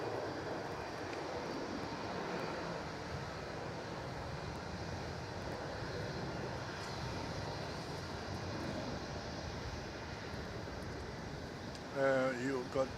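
A jet airliner takes off at Melbourne Airport, its engines making a faint, steady roar from a distance that runs without a break, with a short burst of nearby noise at the end.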